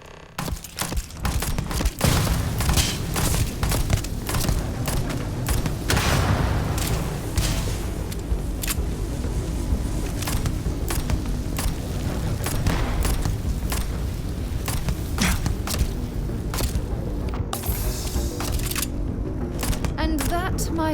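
Sustained gunfire rattles through a Starfield firefight, with dense bursts of shots and booms cracking continuously and loudly over roughly twenty seconds, voices talking faintly beneath.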